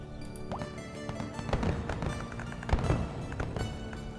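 Fireworks in the video game Glittermitten Grove, with a series of crackling, popping bursts and soft thumps at irregular intervals, moderately loud and with no talking.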